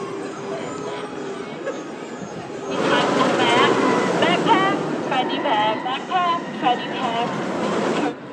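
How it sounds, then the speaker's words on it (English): A roller coaster train at Cedar Point rumbles past on its track, wind buffeting the microphone, with a rising roar and rattling midway through. "Watch this train just slip through."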